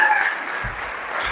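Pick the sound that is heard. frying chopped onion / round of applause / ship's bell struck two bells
round of applause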